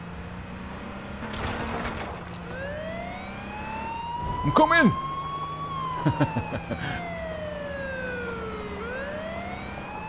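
A police car siren in the video game H1Z1 wails in rising and falling sweeps over a steady vehicle engine drone, with a shouted voice and a few sharp bursts partway through.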